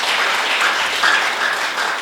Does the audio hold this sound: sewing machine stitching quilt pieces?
no